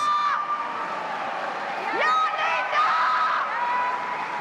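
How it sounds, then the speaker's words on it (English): A crowd at a curling match in Charlottetown cheers and whoops in a large arena, with raised voices and shouts rising and falling steadily throughout, close and fairly loud. "trying to be heard over the crowd here in Charlottetown as they were applauding a nice shot from Val Sweeting on the feature sheet"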